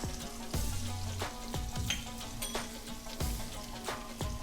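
Ground spices such as turmeric, Kashmiri chili powder, fennel and coriander fry in a hot pan for a samosa filling, giving a steady close sizzle with repeated scraping stirs and clinks throughout.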